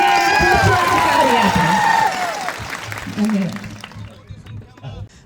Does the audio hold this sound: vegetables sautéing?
no